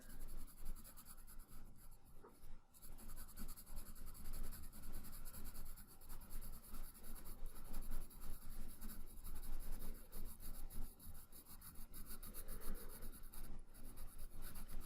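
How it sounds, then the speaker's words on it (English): Pencil lightly sketching midtone shading on paper gives a continuous soft scratchy rubbing of quick back-and-forth strokes, close and quiet with no talking. "So I'm going to lightly sketch in that midtone there."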